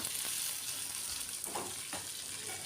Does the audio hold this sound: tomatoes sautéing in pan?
yes